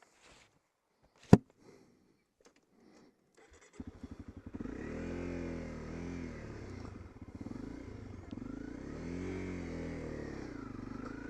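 A Honda CRF250L dirt bike starts after a sharp knock and then rides off, its engine chattering and rising and falling through revs at moderate distance.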